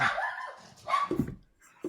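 A dog barks and yips a few times at close range, short sharp bursts separated by brief pauses, with no talking over it.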